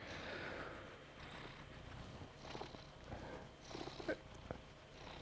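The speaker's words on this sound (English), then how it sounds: "Can you hear him purring?" A cat purrs close by in a soft, continuous rumble, with faint rustling and small movement noises scattered over it.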